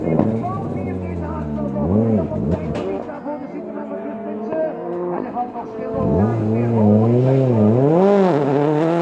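A Citroën C3 rally car at the 2020 Rallye d'Audenarde roars close and loud, its engine revs climbing and dropping repeatedly through sweeping gear changes and corners.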